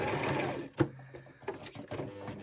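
A sewing machine stitching across a Christmas stocking, a close, rapid mechanical whirr broken by short pauses and clicks as the needle starts and stops.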